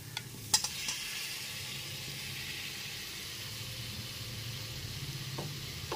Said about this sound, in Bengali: মশলাটা এখানে খুব ভালো মতো কষিয়ে নেবার পর এর মধ্যে দিয়ে দিচ্ছি সেদ্ধ করে রাখা ওল আর আলুটা